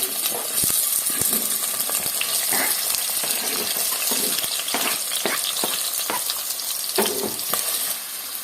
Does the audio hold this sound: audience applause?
no